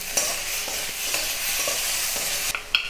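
Omelet curry being fried and stirred in a pan, salted: steady close sizzle with light utensil scrapes and taps throughout, no voices.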